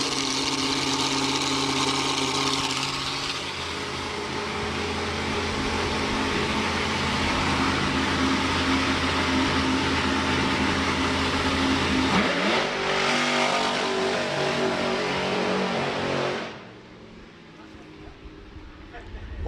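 Slingshot dragster at a drag strip making its debut run, the engine roaring loud and steady with revving surges, then cutting sharply near the end as the car pulls away, leaving a quieter background.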